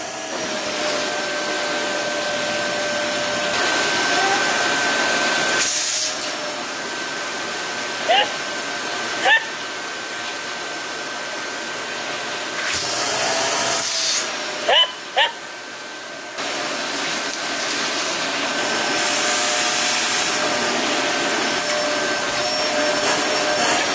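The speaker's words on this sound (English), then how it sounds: "is trying to vacuum" A household vacuum cleaner runs almost nonstop with a loud, steady whine, briefly dropping out a few times and then starting up again, with occasional bumps and clicks close by.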